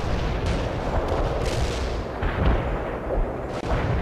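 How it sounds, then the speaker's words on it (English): A heavy artillery barrage in the World in Conflict strategy video game, a continuous loud roar of overlapping booming impacts and rumbling blasts filling the whole stretch without a break. "Heavy artillery barrage inbound."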